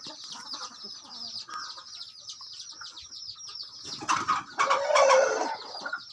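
Chickens about six months old, fighting-cock stock, cluck and call at close range with bursts of louder squawking and wing flapping near the end, over steady high insect-like background hum.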